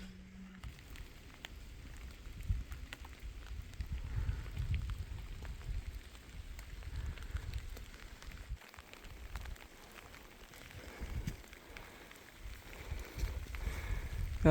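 Rain falls steadily while backpacking up a mountain, a soft patter on surfaces with occasional louder drops and low rumbling gusts, fairly quiet and without talk.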